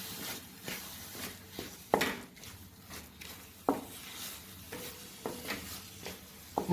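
Cluster bean (guar) curry being stirred in a pan, with a spoon scraping and clacking in irregular bursts over a soft background sizzle, close and moderately quiet.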